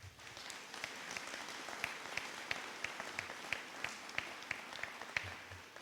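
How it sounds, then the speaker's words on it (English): An audience gives a final round of applause for veterans at a VA clinic ribbon cutting, steady moderate clapping from a crowd with individual claps standing out, heard at a slight distance. "one final round of applause for our great veterans"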